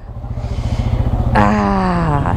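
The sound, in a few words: Yamaha low-CC motorcycle riding on highway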